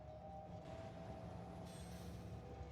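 A Factorio train hums and rumbles steadily along its tracks, a quiet continuous rolling drone with a faint tonal whine, no talking over it.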